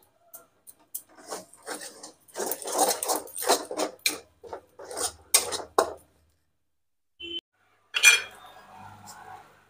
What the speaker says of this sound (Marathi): बडीशेप पावडर टाकली आणि मंद गॅसवर मिश्रण परतून घ्यायचं